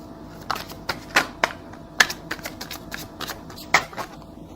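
Tarot cards are shuffled close by, a quick irregular run of crisp riffling snaps and soft slaps that continues without a break.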